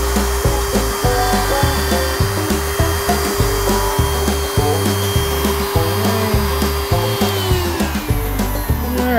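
A router fitted with a square bit cuts a flange into a banjo neck, a loud, close, sustained high whine with a rhythmic pulsing chatter as the wood is fed, running without talk.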